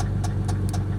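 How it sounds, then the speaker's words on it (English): A Chrysler LeBaron turbo engine idles with a steady low drone, broken by several sharp metallic knocks that point to a suspected bad rod. The knocks come close together in quick succession. "it sounds like a rod"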